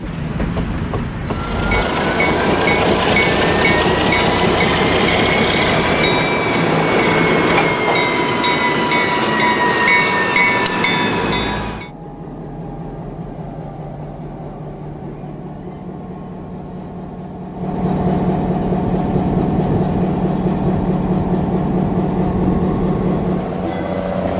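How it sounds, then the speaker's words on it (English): Santa Fe Golden Gate Train 62 moving forward at Oakland, a loud sustained rumble of rolling cars with squealing wheels, then a quieter stretch before the heavy rolling noise swells again. "What is now Golden Gate Train 62 moves forward to prepare for its departure from Oakland"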